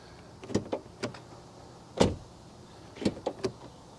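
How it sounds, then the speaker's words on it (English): Doors of a BMW X3 G45 being opened and shut: a series of short, sharp clunks and latch clicks in a quiet setting, with a pair near the start, a single solid thud midway and a cluster of quick knocks near the end. "let's do a quick door sound check"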